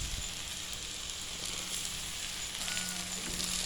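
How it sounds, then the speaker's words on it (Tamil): Shredded cabbage and carrot cook in a clay pot for a penne pasta dish, giving a soft, steady sizzle with faint stirring scrapes. No one speaks. "முட்டைக்கோசும் கேரட்டும் வேகட்டும். நல்லா கிண்டி விட்டுக்குவோம்."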